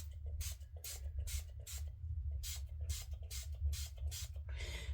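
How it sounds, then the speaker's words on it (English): Repeated short hissing sprays from a trigger spray bottle onto a horse's hoof, about ten quick bursts in an uneven rhythm, close by over a steady low rumble. "we're going to spray it with some of this"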